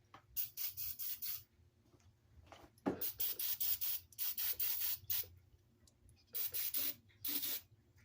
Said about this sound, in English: I'm just going to take some of this and spray this out.